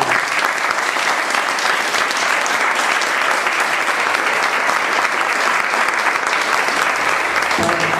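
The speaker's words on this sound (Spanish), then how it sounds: "quiero que lo recibamos con un fuerte aplauso" Dense, steady applause from an audience at a political anniversary event for a UCR party leader in Argentina, loud and continuous throughout without a break.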